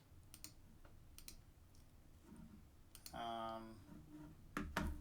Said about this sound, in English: Sorry about the mouse noise